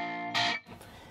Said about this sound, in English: of course you have like high drive, you know, distortion